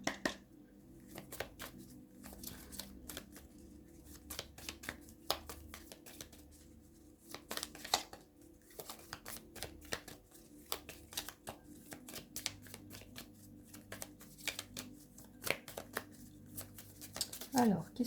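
Tarot cards shuffled and drawn, a flurry of quick papery riffles and sharp snaps in irregular bursts, close and moderately loud, with a low background hum and some soft talk underneath.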